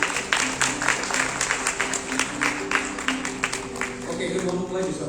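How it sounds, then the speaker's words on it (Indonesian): Guests at a church wedding blessing applaud in a sustained round of clapping with a low hum and murmuring underneath, fading slightly toward the end. "Mari kita berikan tepuk tangan yang mulia."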